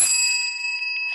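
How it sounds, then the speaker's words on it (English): Single bright bell ding marking the end of a speaker's time at a 2020 Ninth Hampden District candidate forum, struck once at the start and ringing on with a sustained, slowly fading metallic tone, heard alone. "when your time is up completely, you'll see a stop sign and you will hear this bell."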